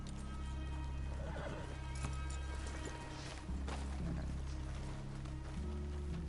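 Horses whinny and neigh in Red Dead Redemption 2, mixed with hoof clip-clops and a constant low ambient drone from the game.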